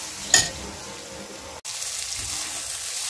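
Spice paste frying in a pan while being stirred, a close steady sizzle with one sharp scrape near the start and a brief cut partway through, no speech.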